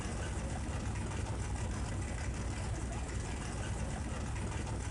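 A Ford Mustang Mach 1 in Car Mechanic Simulator 2021 rumbles at a steady idle, a dense, constant low engine drone held at even loudness without voices.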